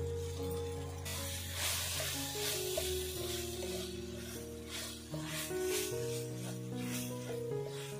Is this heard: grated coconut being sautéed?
yes